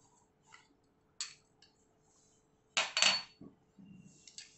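Chopped medium-sized onion dropped into a mixer jar, a few sharp clinks and rattles of pieces hitting the jar and light clattering, close and fairly quiet with no talking.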